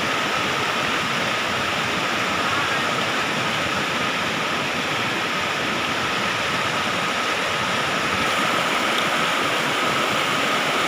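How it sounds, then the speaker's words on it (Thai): Constant rushing of flowing water, a dense, steady roar of a stream in a valley close by. "เสียงน้ำไหล"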